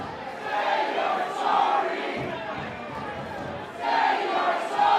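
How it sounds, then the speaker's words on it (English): A live independent wrestling show crowd chanting in unison, a dense roar of many voices rising and falling in rhythmic swells throughout. "What's the crowd chanting? Say you're sorry?"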